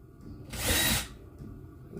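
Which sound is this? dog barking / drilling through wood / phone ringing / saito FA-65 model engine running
drilling through wood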